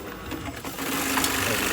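A sewing machine runs steadily as fabric is guided through, its motor whirring and needle chattering close by, picking up slightly in speed partway through.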